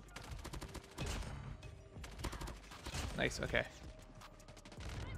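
Gunfire from Call of Duty Mobile, a player landing hip fire kills, crackles in rapid bursts and fusillades under a player's casual talk, moderately close with brief pauses between volleys.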